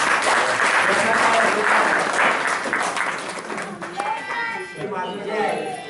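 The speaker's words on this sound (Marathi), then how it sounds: "टाळ्या वाजवा." An audience at a senior citizens' association anniversary event breaks into loud, dense applause that thins toward the end, with speech over it.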